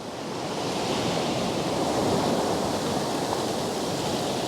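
A wave rolls in and washes up in a broad, rushing roar of surf that swells and holds steady, with no voices.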